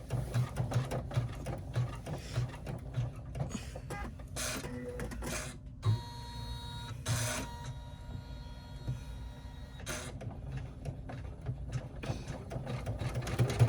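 An embroidery machine runs a travel stitch while making an appliqué crossbody bag in the hoop, giving a steady, close, rapid mechanical stitching hum with a few brief pauses and shifts.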